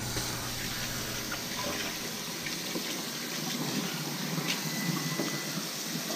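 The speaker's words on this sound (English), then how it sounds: "I've got to wash my hands real quick" Tap water runs steadily into a kitchen sink while hands are washed during meatball making, a constant close hiss that lasts the whole time with no talking.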